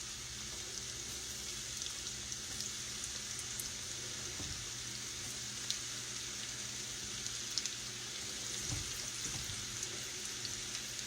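Cornmeal-coated eggplant slices frying in a pan, giving a steady, even sizzle and crackle that runs throughout with no talking.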